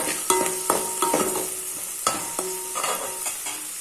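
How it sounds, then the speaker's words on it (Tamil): Onions sautéing in a pan for lentil ball curry, with steady frying sizzle and a series of scraping stirs from a spatula against the pan, close and fairly loud, no talking. "இப்போ இது நல்லா வதக்கி வெங்காயம் நல்லா தான் அது நல்ல வாசமாகவும் டேஸ்ட்டாகவும் இருக்கும்"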